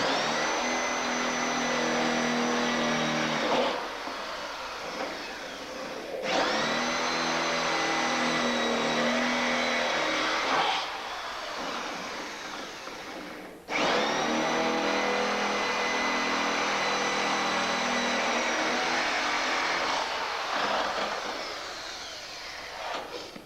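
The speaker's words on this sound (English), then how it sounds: "Just watch that when you're drilling this" A power drill bores holes into the bonnet of a Robin Hood kit car, its steady motor whine rising in three long close runs separated by short pauses.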